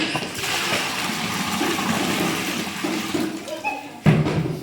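Water is poured into a pot of mutton biryani with a steady, continuous rushing gush, while a voice talks over it; the flow ends in a brief splashing burst near the end.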